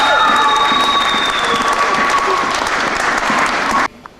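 A church congregation applauds and cheers for Jesus, sustained loud clapping with whoops and high voices throughout, ending abruptly near the end.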